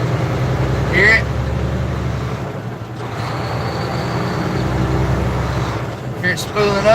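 Diesel engine of a Cummins-powered truck drones steadily with a whistling turbocharger spooling up, a rising whine above the engine hum, heard from inside the truck while someone talks over it.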